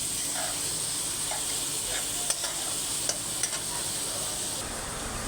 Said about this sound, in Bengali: পেঁয়াজ দিয়ে দিচ্ছি, গোটা গরম মশলা দিয়ে দিচ্ছি। পেঁয়াজটা একটু ভাজা ভাজা করে নেব।